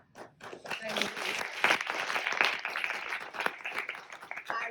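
An audience gives a short burst of applause at an evening theatre talkback, many hands clapping in a dense, crackling wash that swells and then thins out toward the end.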